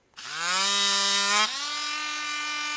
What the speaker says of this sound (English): I'm not sold on the Dremel tool that goes with this, so I'm using my own